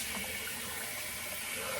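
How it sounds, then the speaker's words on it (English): Tap water runs steadily into a sink to rinse off after a shave, a continuous close hiss with no pauses and no talking. "now I'm going to rinse off with some cool water"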